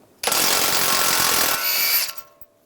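A power tool with an 18mm socket spins off a nut on a 2013-2016 Dodge Dart's front tie rod, giving a loud, close burst of rattling impact whir lasting about two seconds before cutting off.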